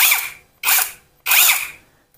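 Cordless APR AP85 Pro brushless electric drill, rated up to 2500 rpm, revs in three loud close bursts, each a high whirring whine that spins up sharply and winds down, with short pauses between.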